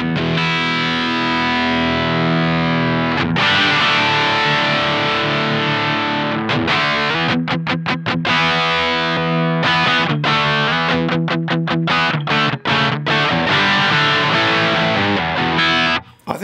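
An electric guitar runs through a Two Notes ReVolt amp pedal with its mids being adjusted, producing loud distorted power chords: long ringing strums, then fast palm-muted chugging riffs in tight rhythmic bursts, with no voice.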